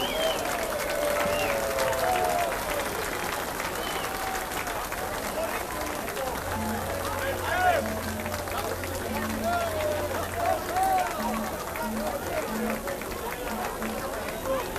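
Crowd applause outdoors at Murphys Irish Days street celebration, continuous clapping and cheering mixed with crowd chatter, steady throughout at moderate distance.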